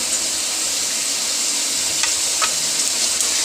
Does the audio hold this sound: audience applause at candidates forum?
no